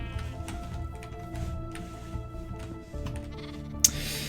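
Bleating from a baby sheep in Minecraft, several short bleats over a steady in-game background, ending with a sharp click.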